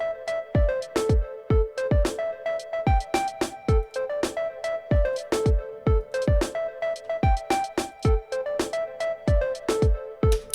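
Randomly placed hi-hat hits programmed in Bitwig Studio play back alongside a repeating tonal synth pattern, with sharp, irregularly spaced hat ticks and strikes continuing through the clip. Nobody speaks.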